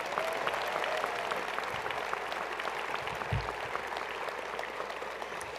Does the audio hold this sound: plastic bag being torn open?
no